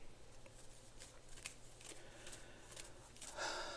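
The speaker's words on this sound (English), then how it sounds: "let's pull some of these cards" Tarot cards being shuffled by hand, a soft papery riffling that comes in repeated short bursts, fairly close and quiet, with no talking.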